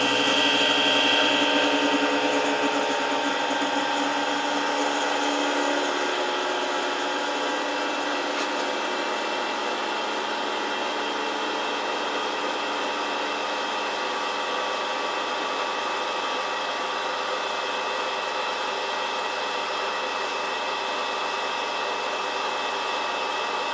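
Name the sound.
Henkelman Falcon 52 vacuum packing machine sealing food trays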